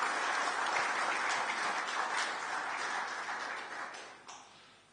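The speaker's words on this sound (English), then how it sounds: "If you could give him a round of applause," An audience at a congress open session claps in a sustained round of applause, dense at first and gradually thinning and fading toward the end.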